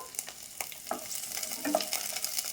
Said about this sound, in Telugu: ఇప్పుడు ఫస్ట్ మనము పచ్చిమిర్చి ఫ్రై చేసుకుందాము